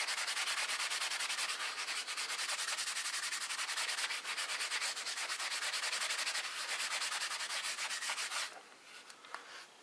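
A scrap of wool rubbing freshly dyed leather, producing a steady close, brisk scrubbing that continues for about eight seconds before easing off.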